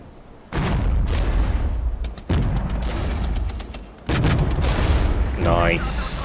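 Artillery and mortar explosions in the video game Regiments, a few heavy booms and rumbling blasts at intervals with someone talking over them.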